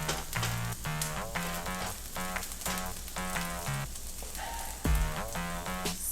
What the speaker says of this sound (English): have them saute in the pot on medium heat